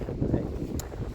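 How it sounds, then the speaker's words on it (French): Wind buffets a microphone outdoors in Brittany, a low, rumbling, continuous roar that fills the whole moment, loud and close, with a faint voice partly buried beneath it. "désolé pour le vent"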